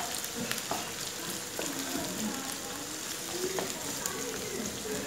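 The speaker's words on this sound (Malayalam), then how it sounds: "നമ്മുടെ എണ്ണ ചൂടായി വന്നിട്ടുണ്ട്. ഞാൻ അതിലേക്ക് അരിഞ്ഞു വെച്ചിട്ടുള്ള സവാള ചേർത്ത് കൊടുക്കാൻ പോകണം." Chopped onions sautéing in hot oil for a simple chicken curry, a steady soft sizzle and crackle running throughout at moderate level with faint scattered clicks, no talking.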